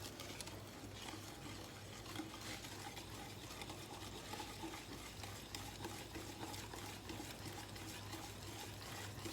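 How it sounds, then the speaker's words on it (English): Boiling water being stirred into chocolate cake batter, a quiet, continuous wet churning and sloshing with soft liquid trickles. "Make sure you add a cup of boiling hot water so you can mix everything together."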